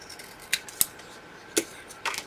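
Scissors trim folded paper pieces in a quiet room, making a few faint, sharp snips spaced irregularly over a soft background.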